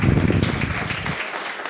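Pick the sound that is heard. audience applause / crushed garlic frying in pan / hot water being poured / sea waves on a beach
audience applause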